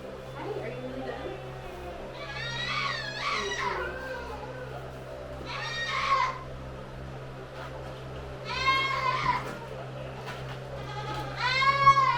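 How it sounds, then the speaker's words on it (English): Baby goats on a farm bleat loudly in several separate bursts of high, wavering cries at a moderate distance, heard over a steady low background hum. "Those are the baby goats screaming bloody murder over there."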